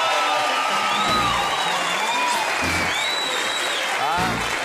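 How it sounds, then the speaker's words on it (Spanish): Applause from a comedy show audience, a sustained wash of clapping with some whoops and cheers, with voices talking over it. "Un aplauso para él."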